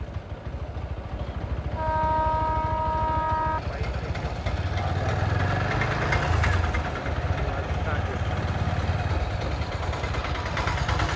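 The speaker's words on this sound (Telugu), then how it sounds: "ట్రైన్ వెళ్తూ ఉంది ఇంకా." A motorbike idles at a lowered railway gate in Nellore while a train goes through the crossing. A steady, humming horn-like tone sounds for about two seconds over the constant engine rumble, with faint murmuring in the background.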